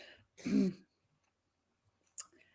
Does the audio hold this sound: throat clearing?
yes